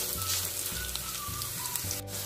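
A cup of onions fries in oil as part of a vegetable biryani, sizzling in a dense, continuous crackle that stays close and steady throughout, with a faint clink near the end.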